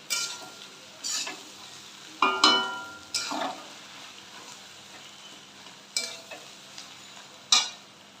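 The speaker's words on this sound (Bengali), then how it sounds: "আবার ভালো করে ভাজবো পুরো মিশিয়ে দিচ্ছি" Fish roe fries in a pan for a Bengali roe chorchori, a steady soft sizzle broken by sharp scraping stirs every second or so, close and with no talk.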